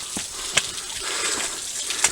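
A slight little waterfall on a creek along a hiking trail, water trickling steadily off a ledge with a soft continuous splashing wash and a couple of brief sharper drips.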